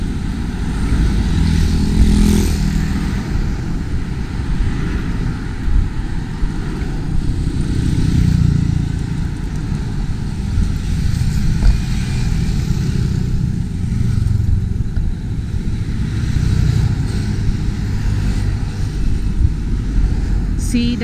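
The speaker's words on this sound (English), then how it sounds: "Up above, there's an airplane landing to Mactan." Steady low drone of an airplane overhead on approach to Mactan airport in Cebu, Philippines, heard from near the First Mactan Bridge as a continuous rumble beneath outdoor ambience and wind, with no clear talk.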